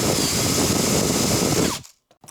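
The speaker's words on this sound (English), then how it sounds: "I'm just going to ream them out" Power drill reaming and countersinking holes in a guitar body, a steady loud whirring grind that stops abruptly near the end, leaving quiet clicks.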